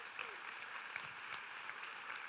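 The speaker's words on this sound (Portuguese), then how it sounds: "Quem pode dar um aplauso ao Senhor Jesus Cristo" Congregation clapping inside a church during a sermon, a dense steady patter of many hands at moderate distance and fairly faint, continuing evenly throughout without a clear break.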